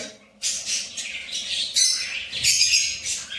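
Several budgerigars chatter and squawk in a large cage in quick, overlapping bursts, close and fairly loud, with raspy chirps filling the whole moment.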